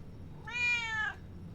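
A cat in the game Mass Effect 3 gives a single clear meow, moderately loud and close, lasting under a second against a quiet background.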